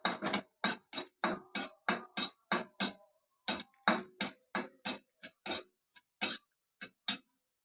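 Dry coriander and cumin seeds are roasted in a pan, heard as a quick, regular series of crisp scraping taps from stirring, close and clear with brief pauses in the rhythm.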